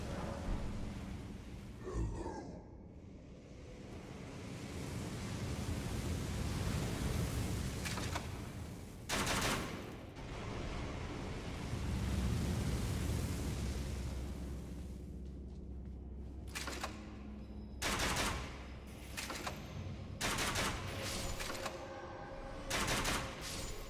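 Explosive crossbow bolts detonate in a video game, a burst of loud, dense blasts and rumbling booms that come in clusters, with a long rolling stretch and sharper repeated bangs toward the end.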